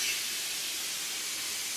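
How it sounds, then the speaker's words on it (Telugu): Hot oil splutters and hisses in a pan where water meets it while broccoli curry cooks, a steady close sizzle with no pauses. "దీనిలో కొంచెం వాటర్ ఉన్నది కాబట్టి చిటపట అంటుంది అది, వాటర్ ఆయిల్ కలవటం వల్ల"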